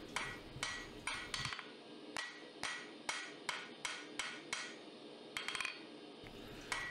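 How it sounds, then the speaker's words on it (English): Hammer striking hot steel on an anvil while forging a bottle opener, a steady series of about a dozen sharp, ringing blows, loud and close with no talking. "we can use our hammer to dress out those dents and also round off the corners"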